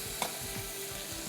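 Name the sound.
fried arbi (taro) added to sizzling masala in pan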